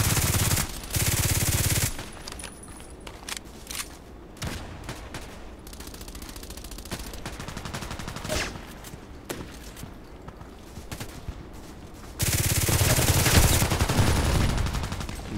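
Video game pistol fire from a Glock comes as scattered sharp shots in a battle, with louder bursts of gunfire at the start and end and quieter pops between.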